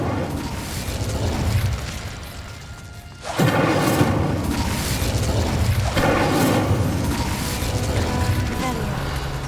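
A Bombarda explosion spell in Hogwarts Legacy, a loud blast boom kicking in suddenly and rumbling on, followed by crashing debris and mechanical clatter under continuous game sound.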